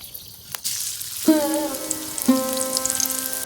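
Dried red chillies frying in a small amount of very hot oil, a steady close sizzle with two sharp bursts as pieces hit the pan, no voices.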